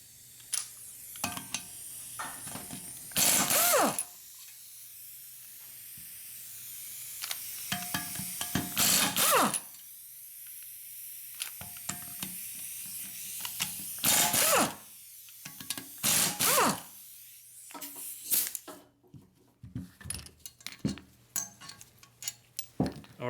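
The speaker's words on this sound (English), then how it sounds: "now we're gonna undo these 4 17mm bolts so we can remove the wheel bearing from the steering knuckle" A ratchet undoes four 17mm bolts holding a Nissan Murano wheel bearing to the steering knuckle at a workbench, in several loud, close bursts of rapid clicking separated by short quiet gaps and lighter metallic handling.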